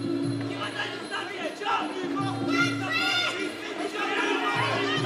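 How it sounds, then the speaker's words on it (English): A crowd at an MMA fight swells and roars in bursts of cheering and shouting, a dense wash of voices rising and falling throughout. "crowd erupts"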